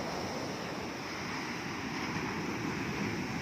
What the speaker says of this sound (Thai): ลมแรงจริงๆครับคลื่นมันสูงครับช่วงนี้